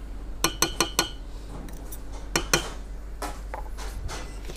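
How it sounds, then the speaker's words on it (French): Several sharp metallic clinks are heard as a utensil stirs banana flambé sauce with raisins and vanilla in a pan, then softer scraping follows over a low steady hum. "On va mélanger le tout."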